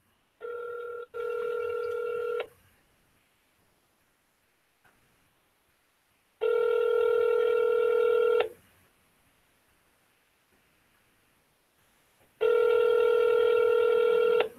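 Telephone tones from a caller making a string of calls: loud, steady electronic tone bursts about two seconds long, repeating at regular intervals with near-silence between them and no talking.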